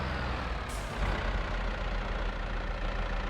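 Tractor engine in Farming Simulator 22, a steady loud drone with a brief bump as another vehicle rear-ends it, the rumble continuing unbroken afterward.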